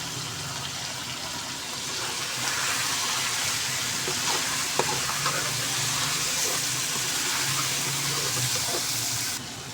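Whole cumin and ground garam masala are stirred in a pan, giving a steady loud sizzle and hiss with faint scraping throughout.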